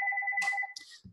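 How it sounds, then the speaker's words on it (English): Office desk phone ringing, one short electronic ring tone with a warbling pulse, faint and brief before it cuts off. "Sorry about my office phone ringing."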